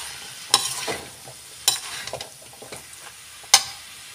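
Mixed vegetables with peas being stirred in a pan, a quiet background sizzle punctuated by three crisp scraping strokes of a spoon against the pan.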